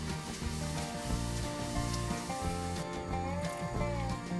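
Puri fries in hot oil, a soft steady sizzle with gentle bubbling, fairly faint and close beneath a rhythmic low background drone.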